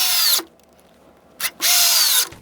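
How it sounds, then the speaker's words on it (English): A power drill drives screws into a wooden leg of a model railroad bench, two loud high whirring bursts with a short pause between them, heard close and on their own. "get the screws in there, do one up here, and do 2 on the other leg"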